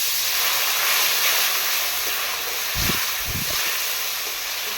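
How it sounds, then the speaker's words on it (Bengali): Kashmiri chilli powder masala being fried with a splash of water in a pan for a village-style fish-head and kochu loti curry, giving a steady, close hiss and sizzle that runs throughout with a couple of soft low bumps. "জল দিয়ে ভাজবো"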